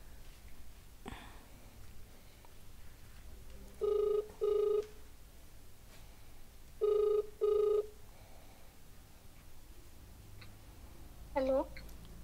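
A telephone ring tone plays during a call: two paired double-ring bursts about three seconds apart, heard fairly clearly through the line against a quiet, faintly hissing background.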